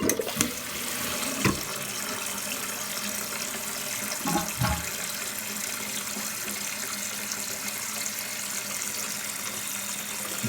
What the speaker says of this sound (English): Once it fill up, it cuts it right off.